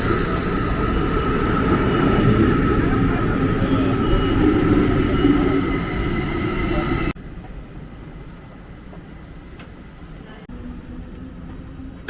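Train at Zurich station bound for the airport, a steady rumbling ride noise with a faint tonal hum, which drops abruptly to a quieter, muffled interior drone partway through.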